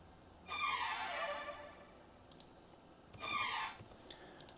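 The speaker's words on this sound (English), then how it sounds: "I used the contact strings" Contact strings from the Spitfire Albion 1 library play two quiet, swelling sustained tones, each rising and fading over about two seconds, with a few faint bright ticks between them and no voices.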